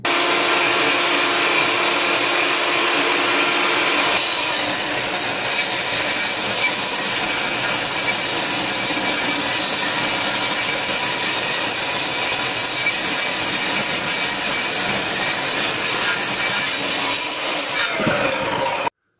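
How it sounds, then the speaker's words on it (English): A table saw cutting barnwood boards in half runs as a loud, continuous high whine and roar, nearby and unbroken for most of the stretch before the cut ends, with no speech. "the first thing to do is cut these boards in half on my table saw"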